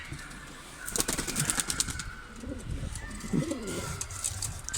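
Ala pigeons, newly arrived, cooing softly nearby with bursts of wing flapping and fluttering, set against faint background noise.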